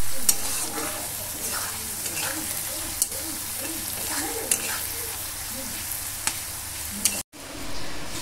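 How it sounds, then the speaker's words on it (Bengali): Vegetables are stir-fried in a pan for fried rice: a steady close sizzle with sharp scraping clicks from the spatula every second or so, then a brief dropout near the end. "এখন শুধু ভাজাটা করে ওই ভাতের সাথে মেশাবো সবজিগুলো।"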